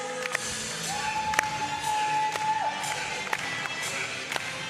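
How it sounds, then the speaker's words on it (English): Spectators at a women's volleyball match between San Marino and Northern Ireland clap and cheer in a steady, diffuse crowd wash. A few sharper thumps come through, and a whistle tone is held briefly in the middle. "a bit of clapping"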